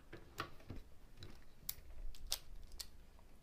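A speed cube turned quickly during a solve, giving scattered light clicks and snaps, quiet and close, in short irregular bursts over low background noise.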